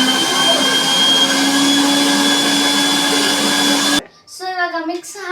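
A mixer grinder runs loud and steady at close range, a continuous whirring roar that stops abruptly, after which a person speaks.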